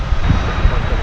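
A passenger jet on the Los Cabos flight passes at DFW Airport, a loud steady engine rumble with brief low swells throughout.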